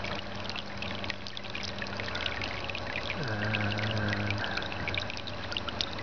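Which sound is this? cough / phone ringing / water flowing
water flowing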